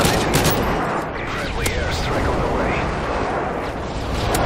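Airstrike explosions and rapid gunfire in Modern Warfare 3 team deathmatch on the Village map, a continuous dense roar of blasts and shooting throughout with no clear gaps.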